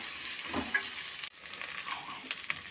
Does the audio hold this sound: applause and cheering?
no